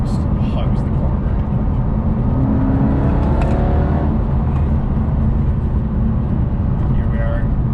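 Jaguar XE SV Project 8 engine downshifting to fourth and pulling hard through a corner, a loud, steady close-up roar inside the cabin with a brief rising rev midway.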